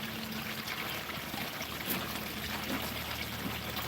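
Water flowing through a tray of a device restarted after months of sitting idle, a steady close trickling rush with faint low hum, no talk.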